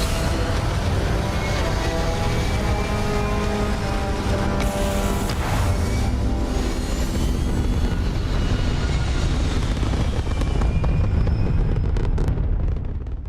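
A spaceship taking off in the video game Starfield, a loud sustained engine roar and rumble with rising whine and rattling, building then fading slightly at the end, no talk.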